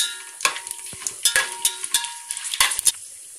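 Whole spices fry in hot oil for chicken biryani, a soft sizzle under a string of sharp spoon scrapes and clinks against the pan, irregular and close.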